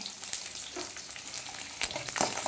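Tomato gravy for a homemade country-tomato pickle sizzles and fries steadily in a pan, a loud continuous crackle with scattered sharper pops and no talking.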